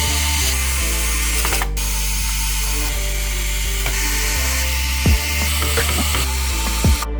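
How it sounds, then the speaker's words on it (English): Motherboard screws being driven into a Lenovo ThinkCentre all-in-one desktop, a loud close electric screwdriver whirring steadily with a ratcheting clicking texture, briefly stopping and restarting, with small chirping squeaks as screws seat. "let's install the screws"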